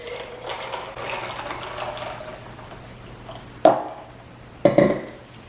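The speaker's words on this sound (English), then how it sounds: "we're gonna pour some lemonade in here" Strawberry lemonade is poured over ice into a glass, giving a soft running liquid sound that ends in two short, louder splashes or clinks near the end, with no talking.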